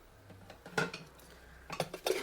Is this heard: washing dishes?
yes